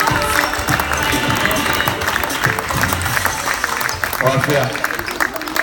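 Loud applause fills a hall as children are welcomed at a fair play ceremony, dense crowd clapping mixed with voices and general commotion, with a short spoken remark over it.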